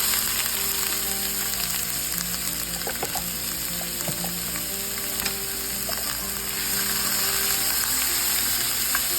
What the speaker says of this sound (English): And I'm going to let this saute before adding my corn and beef.